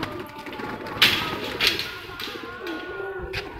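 Pigeons coo nearby in soft, throaty repeated calls, mixed with a few light thumps and bursts of rustling, and no talking.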